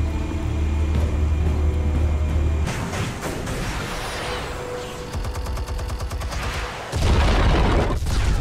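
Explosives detonating in the Batman Telltale Series video game, heard as a burst of loud blasts and crackling gunfire-like bangs that fill the middle of the scene, with rumbling low booms before and after, no speech.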